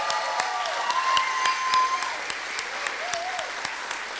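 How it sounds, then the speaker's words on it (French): Audience applause at a school cultural gala fills the room steadily for a few seconds, moderately loud and even, with faint voices beneath. "que j'aimerais qu'on applaudisse encore une autre fois."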